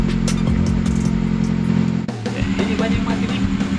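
An older Toyota Avanza's engine runs loudly nearby, with a sudden shift in its sound midway as it catches and settles into a rougher idle, and voices talk over it.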